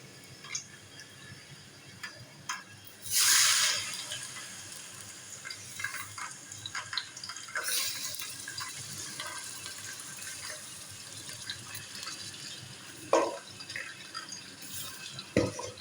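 About 1 kg of beef is dropped into hot oil in a pot, with a sudden loud hiss burst early on settling into a faint continuous crackle, punctuated by a few scattered clinks and another sharp hiss later.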